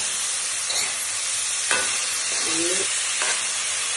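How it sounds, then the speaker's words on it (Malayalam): Onions sautéing and being stirred until brown, a constant hissing sizzle up close with a few distinct spatula scrapes and a brief clink against the pan. "ഉള്ളി നല്ല ബ്രൗൺ കളറാകുന്നത് വരെ നന്നായിട്ട് വഴിച്ചു കൊടുക്കണം"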